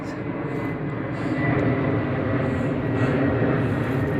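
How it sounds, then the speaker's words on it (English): Boeing airliner flying near a home in Seattle, a steady loud engine roar and rumble that swells slightly and holds throughout, heard outdoors with no speech. "this Boeing is very close to my place"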